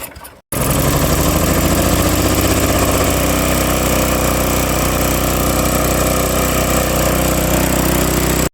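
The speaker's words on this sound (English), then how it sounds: "Alright, turn it on, choke on, prime a couple times." An old, repaired snow blower running on ethanol-blended fuel with the choke on, its small engine catching abruptly after a brief quiet moment and then running loudly and steadily up close, a continuous rough mechanical drone with no talk.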